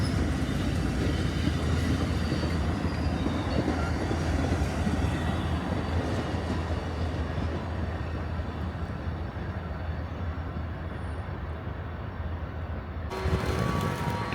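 Amtrak passenger train at the Orlando station, a steady loud rumble of rolling railcars with wheel and track noise running throughout, ending with a brief shift in tone near the end.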